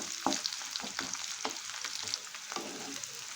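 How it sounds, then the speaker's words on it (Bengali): Steady low frying sizzle in a pan over a low gas flame, likely prawns, with scattered soft scraping and stirring taps throughout, moderately quiet and close. "এইভাবে গ্যাসের ফ্লেমটা লো করে এগুলোকে একটু লাল লাল করে ভেজে নিতে হবে"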